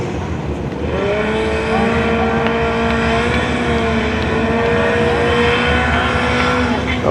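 A Pro Extreme drag racing motorcycle making a pass down the drag strip, a loud sustained high-revving engine roar that climbs in pitch over several seconds, heard from trackside.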